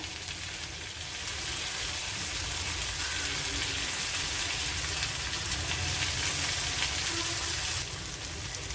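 Tandoori potatoes topped with cheese frying in a covered pan over a medium flame, giving a steady, close sizzle that holds evenly throughout with no talking.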